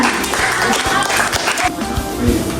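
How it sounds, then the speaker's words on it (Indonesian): An audience claps for a student called up at a junior high school student leadership training event, a brief burst of dense, steady applause with voices mixed in. "Tepuk tangan untuk Rizky Yusuf Saputra."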